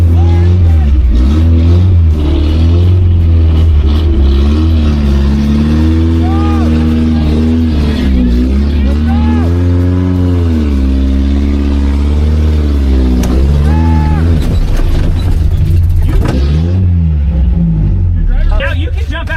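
Engine of a two-week off-road trail build with a loose gas pedal, revving and straining hard up a steep hill, its pitch rising and falling in long surges, loud and close, with voices talking over it.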